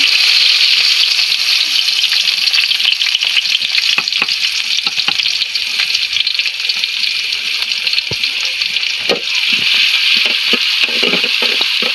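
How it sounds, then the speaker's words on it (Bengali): Onion and garlic frying in hot oil for a tempering in a village kitchen: a loud, continuous crackling sizzle runs throughout, dotted with frequent pops and sputters, with no speech. "তো এখন আমরা এগুলারে বাগার দিয়ে নিব। তাই এখানে যে পেঁয়াজ রসুন দিতেছি।"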